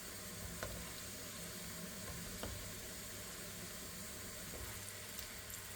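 Aubergine pieces frying in oil until golden make a faint, even sizzle with a few soft clicks from the pan, heard from a distance.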